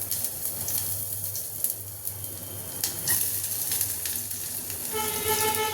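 Chopped ginger and garlic sizzle in hot oil in a pan, a steady broadband frying hiss running continuously at close range with no one talking.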